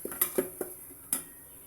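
Beef with spices in a pot, stirred briefly: a few quick metallic clinks and scrapes of a spoon against the pot, close and soft, with no voices.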